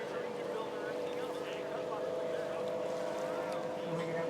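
Drag racing boat on Lake Placid, Florida, at a spring dragboat shoot-out, heard as a steady engine drone holding constant across the lake, with wind and faint background voices.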